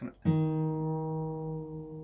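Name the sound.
guitar string pitch changing while tuning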